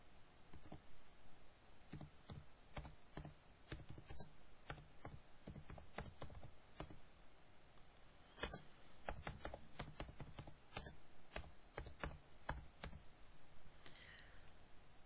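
Someone types on a computer keyboard while building a Scratch program, producing quiet, uneven bursts of close key clicks with brief pauses between runs of keystrokes.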